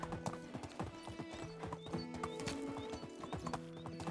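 A donkey in the medieval survival game Medieval Dynasty makes steady, rhythmic hoof clip-clops that run throughout, with occasional whinny-like animal calls layered in the game's soundscape.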